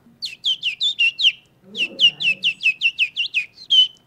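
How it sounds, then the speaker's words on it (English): A robin redbreast sings a bright series of quick, repeated chirping phrases, close and clear, with a brief low rumble of background noise partway through. "I think that's a robin redbreast."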